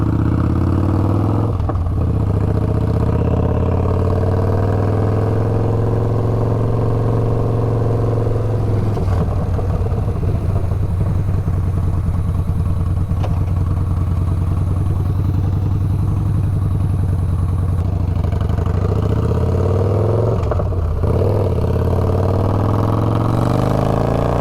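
A budget bobber motorcycle's engine runs steadily throughout a ride, a loud, close, continuous low drone with a strong steady hum and some mechanical clatter, rising and settling with throttle changes and a few brief dips.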